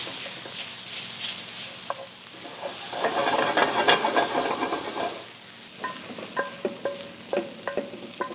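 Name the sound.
crushing white beans with back of wooden spoon in pan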